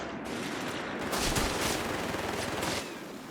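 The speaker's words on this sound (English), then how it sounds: "a bit of a burst from the MG" A machine gun in the Company of Heroes 3 strategy game rattles off a loud, rapid burst of about three seconds, dense and continuous, then cuts off.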